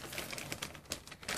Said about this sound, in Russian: Пакетик вот так легко открывается